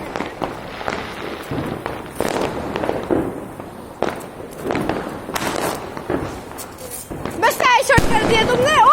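Sky shot fireworks burst repeatedly on a rooftop during a Diwali celebration, sharp cracks and booms scattered throughout with whistling rockets near the end, while people talk and shout nearby.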